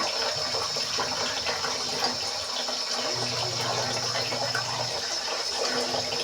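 Tap water gushes steadily from a faucet, dirty brown water pouring in a continuous loud rush with a brief lower tone as it fills a bowl.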